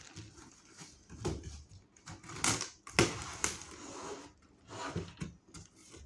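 Packaging of a NIKO Titanium built-in gas stove being opened: irregular rustling, crinkling and clattering handling noises, close and moderately quiet, with no talk.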